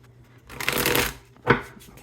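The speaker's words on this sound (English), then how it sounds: "Let's get a good shuffle." Tarot cards being riffled and shuffled close by, a long rustling flurry followed by a short sharp bridge-and-snap of the deck.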